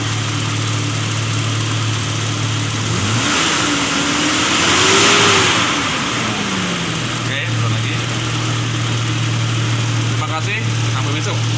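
A car engine running in place as the throttle is raised to check alternator charging, climbing in pitch to a held rev and then easing back toward idle, loud and close.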